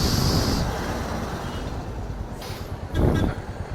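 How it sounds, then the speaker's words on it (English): A local bus in Goa rumbles past on the street with a low, steady engine drone, a hiss of air near the start, and a louder swell of engine noise late in the moment. "So these are the local bus."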